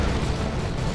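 Lascannon fire in the strategy game Dawn of War 2: Retribution, a dense, rumbling blast of heavy energy weapon discharge filling a short burst, loud and continuous with no pause.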